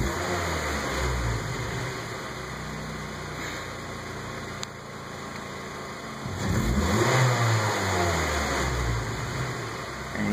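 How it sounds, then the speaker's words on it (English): A Mazda3 engine, fitted with a flash-tuned ECM, idles steadily, then swells in a single throttle-blip rev near the end before settling, close and loud over a constant electronic whine. "I'm going to blip the throttle."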